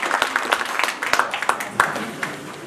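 Scattered audience clapping at a fundraiser, a modest group of distinct hand claps in an irregular patter, moderately close, fading slightly by the end.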